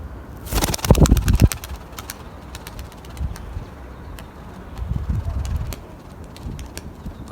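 A Turkish Takla pigeon gives soft, low coos outdoors, preceded by a burst of flapping wings, with light wind and scattered bird sounds around it.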